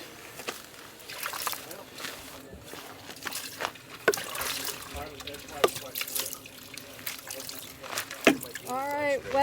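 Water trickles and splashes over a truck wheel to rinse out lodged gravel during a backcountry recovery in Alaska, with people talking nearby over the intermittent pouring.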